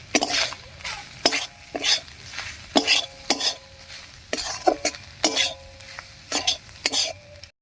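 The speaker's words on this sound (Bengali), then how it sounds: "এবার এর উপরে সামান্য একটু আটা দিয়ে মিশিয়ে নামিয়ে নিচ্ছি।" Cauliflower paratha filling mixed with a little wheat flour in a pan, a spatula scraping and clinking against the metal in repeated rhythmic strokes over a soft background sizzle, close and fairly loud.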